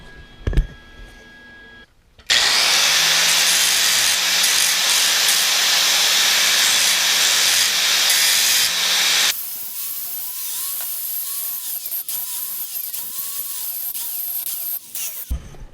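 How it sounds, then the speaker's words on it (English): An angle grinder cutting a slit into a weld on a dirt bike frame, with a loud, steady high hiss of grinding that continues about seven seconds, then drops to a quieter whine as the tool spins down. "Grinded out a slit into the weld on the back"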